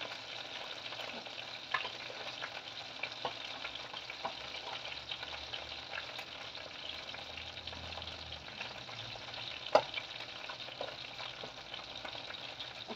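Food fries in a wok (kawali) with a faint, steady sizzle, broken by occasional light clinks of a utensil stirring, one a little louder near the end.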